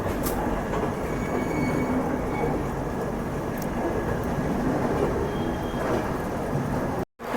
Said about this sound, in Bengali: ট্রেন এখন ঢুকছে ধানবাদ স্টেশনে প্রচুর বৃষ্টিও হচ্ছে